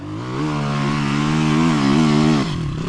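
Rottor Bronx 300 Chinese enduro motorcycle engine revving hard while climbing a hill, a loud, close, sustained roar with pitch rising and wavering, then dropping off sharply near the end.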